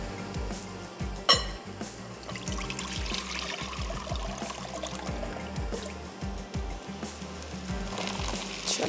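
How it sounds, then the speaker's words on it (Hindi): Water is drained off cooked turnips in a kitchen, a soft continuous trickle and pour with small clinks and splashes, fairly quiet and close. "इसका मैं पानी निकाल देती हूँ।"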